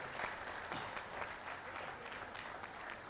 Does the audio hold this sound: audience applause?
yes